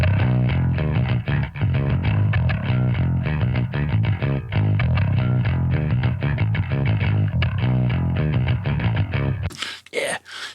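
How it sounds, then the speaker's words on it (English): Distorted death-metal bass amp track with a gritty tone, shaped by EQ, compression and a limiter, playing a dense, steady riff for about nine seconds before cutting off, followed by a brief burst of noisy sound. "the bass amp sounds like this"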